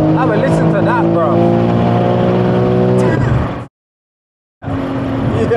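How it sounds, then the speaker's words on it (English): A 1300hp BMW M3 revs hard in third gear on boost, loud and close with a sustained high-pitched engine whine that climbs and holds, cuts to about a second of silence, then roars back. "Yo, this car sounds sick."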